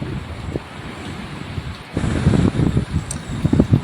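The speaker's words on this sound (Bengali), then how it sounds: "কেমন হাওয়া মানে হাওয়া যেমন বৃষ্টিও তেমন মানে এত মানে হাওয়া চলতেছে" Gusty wind roars over a steady hiss of rain, with a low rumble that swells and grows louder midway and stays rough to the end.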